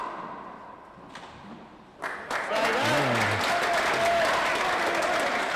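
Galway supporters at an All-Ireland 4-wall men's singles handball final burst into loud, sustained applause after a quiet stretch, the clapping swelling and holding steady with some crowd noise.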